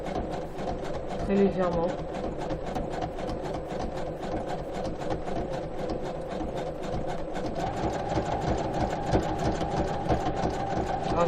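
A domestic sewing machine stitches a heavily torn pair of denim jeans, running in a steady rapid mechanical chatter throughout, close and fairly loud, with a voice talking over it.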